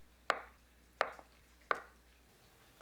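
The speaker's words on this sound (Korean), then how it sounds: "두부는 반 자르고 1cm 두께로 썰어줍니다" A knife slices through tofu on a cutting board in four crisp, evenly spaced chops about once every 0.7 seconds, each a sharp close thud with a short tail, with no talking.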